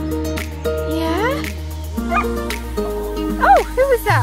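A dog gives a few short yips and barks amid busy background music and voices, the calls brief and fairly close, mixed in with people talking.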